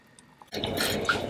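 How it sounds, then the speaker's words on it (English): Canned crushed tomatoes slide out and splash into a pot over a sauce of white wine vinegar, a sudden wet squishing pour that starts abruptly and stays close and steady. "And in goes our crushed tomatoes."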